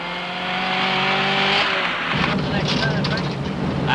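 A 1966 Southern Cross Rally car in Australia speeds over smooth gravel on alpine roads, its engine drone loud and sustained, then giving way to a rushing, gritty roar of tyres on loose stones.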